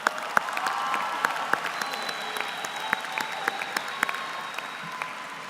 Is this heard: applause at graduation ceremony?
yes